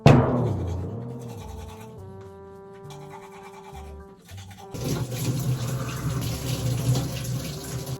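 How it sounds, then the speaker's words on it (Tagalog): Bristles scrub teeth with a toothbrush, followed by a bathroom tap running water steadily, close and fairly loud with no talking. "ngayon ang gagawin ko ay mag-toothbrush"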